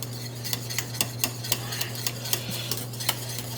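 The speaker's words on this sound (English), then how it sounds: "Whisk it in." A whole egg whisked into bechamel sauce in a pot: quick, regular metallic ticks of the whisk against the pan, about three strokes a second, close and steady with no talk.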